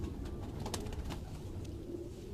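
Pet pigeons kept by a Quetta fancier give soft, close, rolling coos that run continuously through the short stretch, with no talking.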